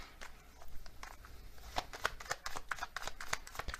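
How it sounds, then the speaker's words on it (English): Oracle cards being shuffled by hand, a run of soft papery riffles and slaps that grow busier and louder in the second half, close up with no voices. "So I'm going to get some more oracle cards here."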